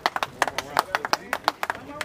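An audience claps after a rap battle, a brief burst of sharp, irregular hand claps from several people close by.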